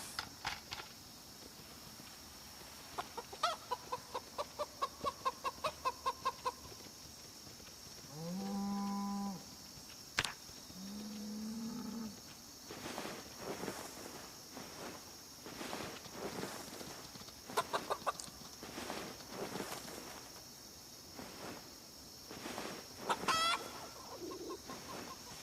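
Chickens cluck and a cockerel calls on a farm in the video game Project Zomboid, with irregular bursts of clucking and a longer crow mid-way over a steady background hum.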